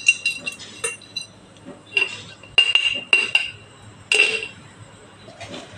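A spoon clinks and taps against a glass jar in scattered bursts while lemon pickle is packed into it. The strikes are close and bright, with quiet gaps between them.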